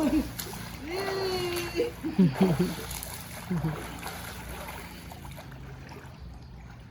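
Children splash and swim in water outdoors, with a few bursts of splashing amid shouting and cheering voices, the water noise fading to a quiet trickle toward the end.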